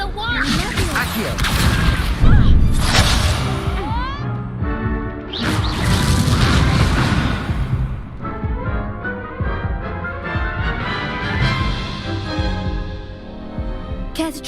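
Spell effects crash, whoosh and boom loudly during combat in the video game Hogwarts Legacy, with dense layered bursts and ringing tones, and voices speaking between casts.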